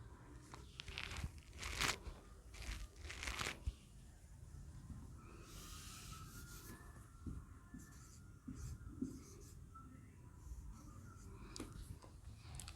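A pen scratches over paper while math is worked out for a class 10 quadratic equations lesson, giving faint, close scribbling strokes in short bursts with quiet pauses between them.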